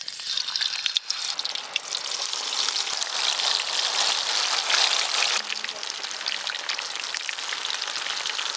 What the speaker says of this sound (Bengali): এবার আমি টমেটো ফ্লেভারের গুলো ভালো করে ভেজে নেব।